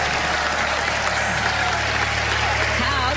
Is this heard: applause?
yes